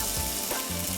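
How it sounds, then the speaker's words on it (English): Pancake batter sizzles and crackles steadily in frying oil in a pan, a bright continuous hiss with faint stirring scrapes underneath. "move the oil around so it sizzles beautifully like that."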